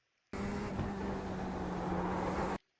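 A Chevrolet Corvette Z06 GT3.R race car engine in the iRacing simulator holds a steady loud drone in third gear for about two seconds, then cuts off abruptly, with no talk.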